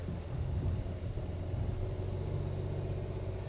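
A 2024 Kia Telluride X-Pro climbing a muddy slope, its engine a steady low rumble under light throttle, close and even throughout with no talk.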